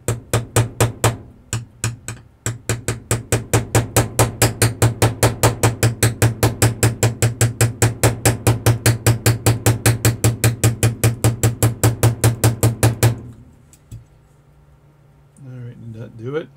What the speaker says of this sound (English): I think I need a different hammer.